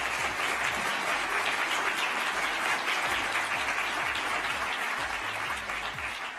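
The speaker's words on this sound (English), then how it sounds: "Let's give him a round of applause for that" A summit audience gives a sustained round of applause, dense and steady throughout before easing slightly at the very end.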